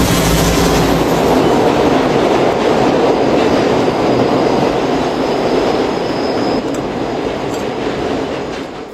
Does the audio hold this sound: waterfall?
no